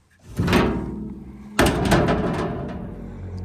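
The cab door of an old combine harvester sitting in a machinery graveyard is forced open, giving two loud scraping, rattling bursts of metal.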